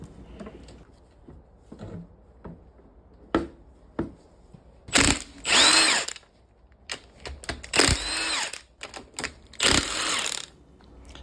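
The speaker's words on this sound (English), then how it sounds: "Here I am removing the front bolts because once we stand this thing up, in order to get the case off, we're gonna have to take those bolts out." Short bursts from a power tool remove the front bolts of a Tremec T56 six-speed transmission case, several separate whirring runs with quiet gaps and small metallic clinks between them.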